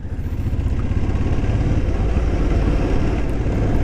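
A Ducati 999 motorcycle idles with its dry clutch rattling, a steady close, loud low mechanical clatter and rumble running throughout with no pauses.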